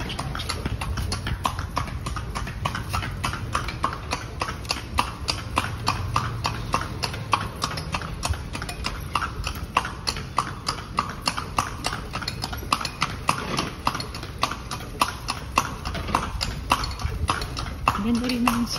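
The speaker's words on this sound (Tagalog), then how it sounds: "Yung kabayo." Steady, rapid clip-clop of horse hooves pulling a kalesa carriage through Intramuros, loud and continuous throughout, with people talking over the rhythm.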